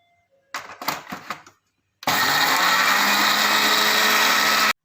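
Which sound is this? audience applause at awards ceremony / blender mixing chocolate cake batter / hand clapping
blender mixing chocolate cake batter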